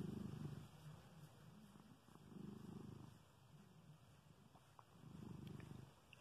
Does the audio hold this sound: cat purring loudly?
yes